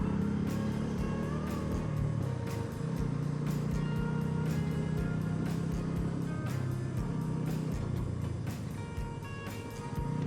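A car or bus on a highway toward Jejuri, with a steady engine and road rumble throughout and repeated short passing swooshes as vehicles overtake nearby.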